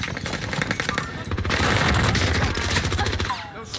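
Rapid automatic fire from an NZ41 rifle in the video game Warzone, a loud, dense stream of shots rattling steadily for several seconds, with faint talk mixed underneath.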